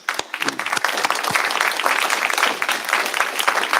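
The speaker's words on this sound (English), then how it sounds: "Let's give her a big round of applause." Steady, dense applause from an audience at a memorial service, many hands clapping together at a close-to-middle distance, with no voices over it.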